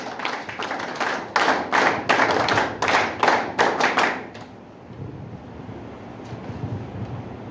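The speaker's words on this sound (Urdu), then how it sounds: "آپ کی بھرپور تالیوں میں اسکاؤٹ کلیپس لیٹس گو" Scouts at a Scout of the World award opening ceremony perform a scout clap: about four seconds of loud, rhythmic group clapping in sharp, regular bursts that stops abruptly, leaving quiet room noise.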